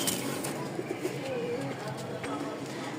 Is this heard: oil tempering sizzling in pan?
no